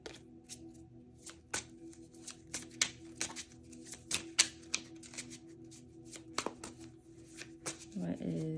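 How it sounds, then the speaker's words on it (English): Playing cards pulled from a deck and shuffled at a tarot-style reading, a run of quick close papery riffles and taps, fairly faint, ending with a brief rustle. "we're gonna get all the cards out"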